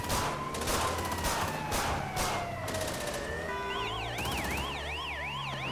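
Gunfire and wailing police sirens from the video game LSPDFR, a police mod for GTA V: rapid bursts of shots crack over steady siren tones, then a warbling yelp siren rises loud and close near the end.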